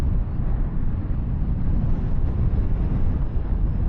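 Strong wind roars against a rider on a KTM 1390 Super Duke R EVO motorcycle in fourth gear around 3,500 rpm, a dense, steady, loud rush of air with a low rumble underneath and no pauses.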